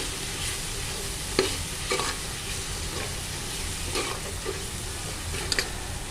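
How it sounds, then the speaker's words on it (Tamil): Soaked cowpeas and salt sizzle steadily in a hot pan while a spoon scrapes and clinks against the metal every so often. "நல்லா வதக்கிக்கலாம்."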